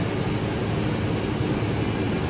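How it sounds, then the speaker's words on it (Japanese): The bucket of a snow-clearing machine digs through deep snow on a road after a blizzard, giving a continuous loud, rumbling, grinding mechanical roar with steady engine drone throughout and no voices. "バケットで掘っていきます。"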